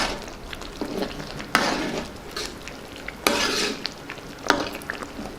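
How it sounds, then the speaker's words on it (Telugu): Garam masala and two spoons of yogurt get stirred into a pan of potato curry, with a spoon scraping and clinking against the pan in several bursts over a soft sizzle, close up and without talk. "గరం మసాలా వేసుకుందాం అలాగే ఒక రెండు స్పూన్లు పెరుగు వేసుకుందాం ఒకసారి బాగా కలుపుకుందాం"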